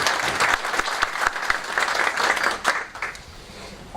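Audience applause at a forum with senate candidates, a loud burst of crowd clapping for a few seconds that thins out toward the end.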